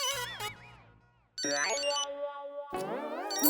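A melodic electronic mobile phone ringtone plays loudly in bursts with short gaps, no talking over it.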